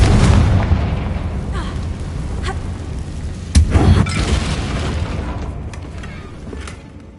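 Fiery blasts of the Confringo spell in Hogwarts Legacy: a loud booming burst at the start, then a second sharp explosion midway, each trailing off into a rumbling roar.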